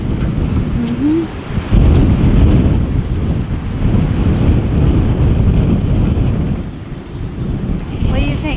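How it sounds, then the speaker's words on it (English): Strong storm wind roars and buffets the microphone in a constant heavy rush, with low rumbling gusts throughout and a brief whistle near the start. "Oh my gosh, that wind."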